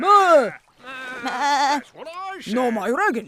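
Cartoon sheep bleating in a children's animated series, several wavering, voice-like bleats in quick succession, loud and close, with speech in the clip.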